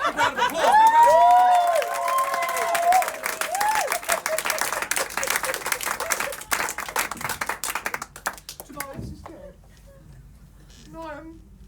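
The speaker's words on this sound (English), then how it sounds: "Big round of applause, big round of applause." A theatre audience at an Elizabethan-themed stage show claps in a loud, dense burst at the start, then the applause thins into scattered clapping mixed with voices and stage sounds before fading.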